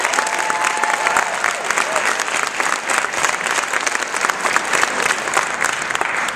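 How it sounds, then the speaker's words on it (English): An audience gives a speaker a warm round of applause, dense continuous clapping from many hands filling the room at a steady, fairly loud level with light crowd murmur underneath. "let's give him a great round of applause"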